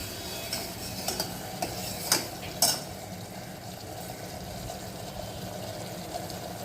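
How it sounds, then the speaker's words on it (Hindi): Spices are stirred with onion and tomato in a pan for a whole moong dal dish: soft scraping and a few sharp spoon clicks over a gentle sizzle, close and fairly quiet. "इन मसालों को सब मैं प्याज और टमाटर के साथ अच्छी तरह से मिक्स कर रही हूँ"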